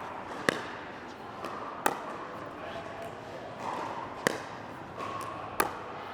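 Pickleball paddles strike the ball in a backhand drop shot rally, giving sharp, hollow pops at irregular intervals, some louder and closer than others, heard under someone talking steadily.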